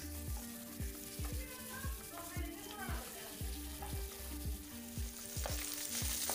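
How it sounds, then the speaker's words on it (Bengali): Chicken meat frying in oil without added water, a steady loud sizzle with regular scraping stirs of a utensil against the pan, close by and without speech. "আমি মুরগির মাংসটাকে একেবারে তেলের ভিতরে ভালো করে ভেজে নিচ্ছি"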